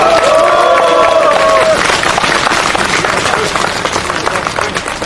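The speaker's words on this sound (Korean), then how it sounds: "박영선 의원님께 다시 한번 뜨거운 박수 부탁드리겠습니다" At a Korean political rally, the crowd breaks into applause for a lawmaker, a dense wash of clapping and cheering layered over a lingering tonal sound and crowd voices.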